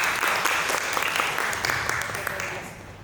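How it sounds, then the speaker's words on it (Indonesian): An audience at an Indonesian book discussion applauds an international novelist, steady clapping with audible individual claps that gradually fades over about three seconds, with some voices mixed in. "Tepuk tangan sekali lagi."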